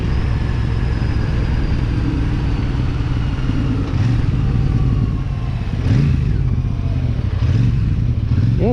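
A Royal Enfield Super Meteor 650 motorcycle rumbles steadily on a windy ride, its twin-cylinder engine and stock exhaust droning loud and close with a few rising revs and gear changes, no talking.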